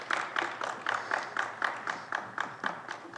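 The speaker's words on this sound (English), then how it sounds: "One more round of applause for our finalists." Rhythmic clapping for finalists at an awards event, at a steady, even beat, about four claps per second, moderately close with little else underneath.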